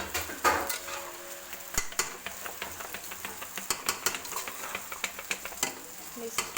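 A spoon stirs macaroni with chili sauce and soy sauce in a pan, giving repeated scraping clinks and soft sizzling at close range, with a steady rhythm and no talk.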